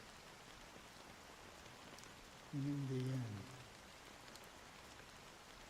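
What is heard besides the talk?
rain falling, from the video game Honkai Star Rail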